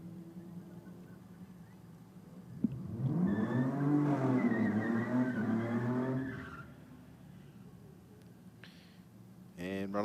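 A Mini drag racing car makes a run down a drag strip, its engine roaring loudly and climbing in pitch through the gears for several seconds before fading away, followed by a short burst of noise at the end.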